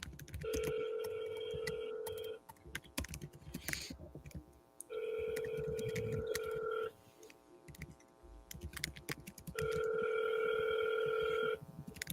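Outgoing phone call ringback from a calling app: three long electronic ring tones, each about two seconds, separated by pauses with faint background clicks and movement, close and clear.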